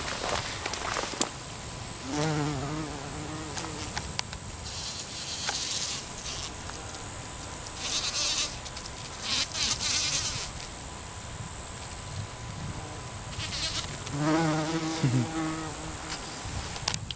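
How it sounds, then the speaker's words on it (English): Bumblebees buzz around garden plants near comfrey, their drones rising and fading as they fly close by and move off again, set against a steady outdoor insect hum. "we got bumblebees working."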